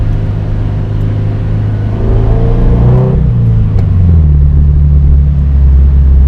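A Toyota 86 with a DC Sports cat-back exhaust revs steadily at 3,000 RPM with a deep exhaust drone, the pitch rising and then settling into a loud, sustained rumble close by.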